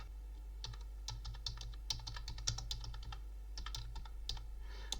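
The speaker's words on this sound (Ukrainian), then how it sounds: "натискаю Tab і ще раз Tab" Repeated presses of the Tab key on a computer keyboard while working in an MS Excel spreadsheet, a run of crisp, close key clicks in an irregular rhythm over a low steady hum, with no talking.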